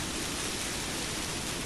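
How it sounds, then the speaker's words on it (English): A loud waterfall in Citadel: Forged with Fire roars as a dense, constant rush of noise, close and unbroken, with no voices over it. "Got another loud waterfall though,"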